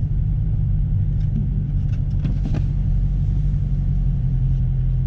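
Dodge Challenger Hellcat accelerating from the cabin: a loud, steady deep engine rumble throughout, with a brief burst of mechanical clatter midway and no talk.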